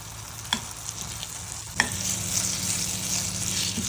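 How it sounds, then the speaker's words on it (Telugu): Pieces of bottle gourd fry in a pan with a steady, close sizzle, punctuated by a couple of sharp clinks as they are turned. "ఇలా రెండు వైపులా ఫ్రై చేసుకోవాలండి. బాగా మగ్గాలి."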